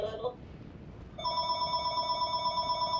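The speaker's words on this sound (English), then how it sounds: "my phone is ringing" A mobile phone rings after a brief quiet moment, a bright electronic ringtone pulsing in a steady repeating pattern and continuing without a break.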